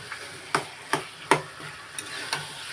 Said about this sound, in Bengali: ভালো করে মশলাটাকে মিক্সড করে নিচ্ছি গো এখন কচুর সাথে।